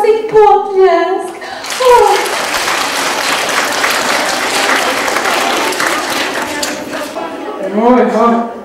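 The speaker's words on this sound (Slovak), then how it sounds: "A teraz si prosím potlesk." Loud, sustained audience applause fills a theatre performance of the Slovak fairy-tale play Princezná Frmfulína at the Palárikova Raková festival, with voices speaking before the clapping starts and after it fades.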